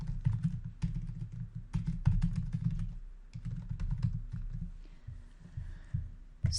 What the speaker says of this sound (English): I want to also make sure that I type in that headline